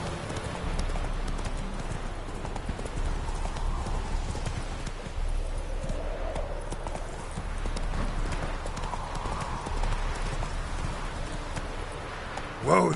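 Steady rhythmic hoofbeats of a horse galloping in The Witcher 3 Wild Hunt, a continuous clip-clop over outdoor ambience, close and moderately loud throughout, with a brief thump at the end.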